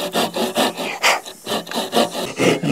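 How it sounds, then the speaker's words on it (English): A small handsaw cuts straight across a half log for a dovetail log cabin, making close, rhythmic rasping strokes about three per second with no talk. "Now I'll take my little handsaw and I'll just cut this right straight across here."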